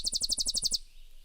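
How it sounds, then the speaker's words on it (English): A recorded Tennessee warbler sings one quick burst of about eight sharp, buzzy repeated notes, loud and close, then falls silent. "I've always found Tennessee warbler very harsh to the ears."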